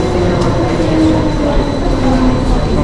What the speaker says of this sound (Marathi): आमची ट्रेन.